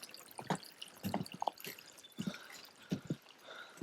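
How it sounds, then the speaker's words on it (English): Water trickles and splashes near a wooden bridge on a mountain trail, heard as faint, irregular drips and gurgles in a quiet outdoor setting. "The nice sounds of water here."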